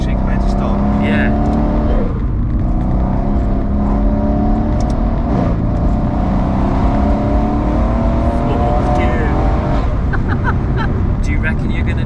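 A tuned Mercedes C63 AMG with big turbos and 830 bhp accelerates hard, its loud engine note rising steadily through the gears in a continuous roar, heard from inside the car.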